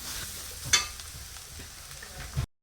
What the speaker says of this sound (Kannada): ಇದನ್ನು ಸ್ವಲ್ಪ ಫ್ರೈ ಮಾಡ್ಕೊಳ್ಬೇಕು